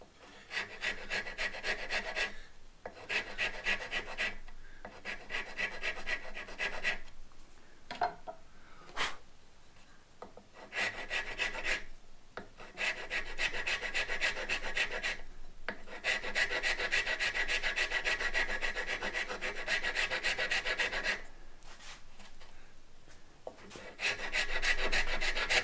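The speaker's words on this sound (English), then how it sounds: "This tool I really like for carving necks. This dragon rasp." A dragon rasp carving a wooden acoustic guitar neck: long, close, rhythmic rasping strokes across the wood, separated by brief pauses between passes, with no one talking.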